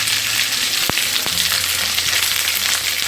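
Chopped onions fry in hot oil for a toor dal sambar, a loud, steady close sizzle with a couple of sharp clicks or pops early on and no voices.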